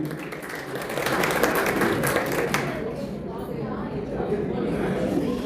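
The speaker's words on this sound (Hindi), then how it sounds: "जमशेद साहब के लिए जोरदार तालियां" Applause from an audience at a tribute concert event in Dammam, dense clapping strongest through the first few seconds, then thinning as a voice and crowd murmur carry on over it.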